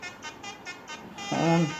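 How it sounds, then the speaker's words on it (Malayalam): A car horn toots briefly at the end, loud and close, after a stretch of steady vehicle noise with a faint voice underneath. "ഗൈസ് നമ്മൾ പോതൊക്കെ ഹോണടിച്ചെടുക്കാം."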